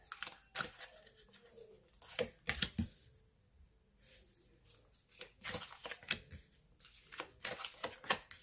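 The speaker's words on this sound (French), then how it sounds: "On va tirer un dernier oracle." Oracle cards are shuffled and drawn, producing quick bursts of riffling and soft flicking taps in irregular clusters, fairly close and quiet, with brief gaps and faint background birdsong.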